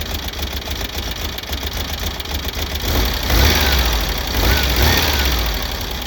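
A 1970 VW Bug engine idles steadily after a cylinder two misfire repair, a close, loud air-cooled chug that swells briefly twice as it burns off excess fuel.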